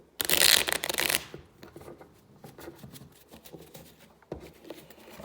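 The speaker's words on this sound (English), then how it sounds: "I wish I was a better shuffler, because this would go quicker" Sleeved playing cards riffle in a loud burst at the start, then quieter shuffling and squaring follows, with soft card slaps and taps near a tabletop.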